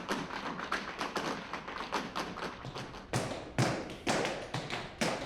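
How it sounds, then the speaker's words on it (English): Jazz style tap dancing shoes striking a floor in quick rhythmic flurries of crisp taps with a few heavier stomps, moderately close with a slightly roomy tone and no talk. "We do the jazz type tap dancing."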